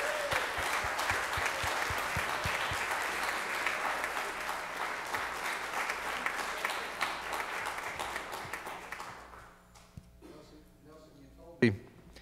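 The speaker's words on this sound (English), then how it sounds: "let's give him a big round of applause for 10 years." Sustained applause from a church congregation fills most of the clip, then tapers off, leaving a quieter room with a brief sharp sound near the end.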